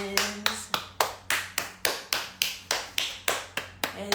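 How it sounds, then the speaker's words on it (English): Hands clapping in a steady, even rhythm, roughly three claps per second, each crisp and close with a quick decay, about a dozen in a row indoors with no one speaking. "let's clap our hands."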